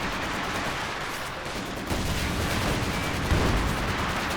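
A ZiS artillery barrage in Company of Heroes 2 rumbles as a dense run of overlapping booms and crackling gunfire, continuous and heavy, swelling louder in the second half with a strong burst near the end.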